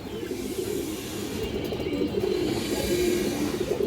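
A Bagha pigeon and a female pigeon in a loft coo in low, throaty, repeated calls, close by and fairly loud over a constant background hum, with no talking.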